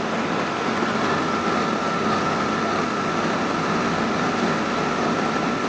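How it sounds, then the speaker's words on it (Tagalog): A small 12-volt blower feeding a used-oil stove runs with a steady, even whir and hum that holds at a constant level throughout, close by, with no speech. "Ganito lang kalaki yung aking blower."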